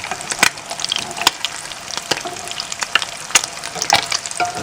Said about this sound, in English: them brown lightly on one side and then gently turn them over to brown on the second side